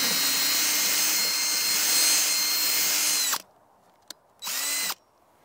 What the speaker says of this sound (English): We're going to use a drill with a mason bit here